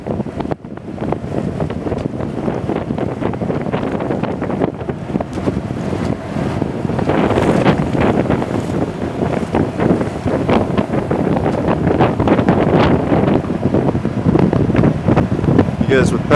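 A powerboat roars close by on open water, its loud engine drone mixed with rushing wind buffeting the microphone and water churning steadily throughout.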